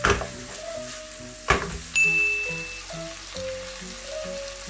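Onion and green onion fry with pork belly in a hot pan for ramen, a crackling sizzle with a sharp clatter of stirring, while soft music plays underneath.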